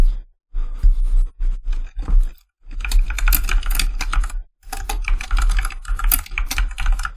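Rapid bursts of clicky computer keyboard typing come in short runs separated by brief silent pauses, close and crisp with no talking.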